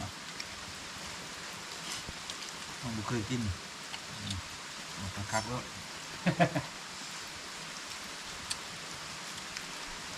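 Rain falls as a steady hiss on a surface, with murmured voices speaking quietly underneath.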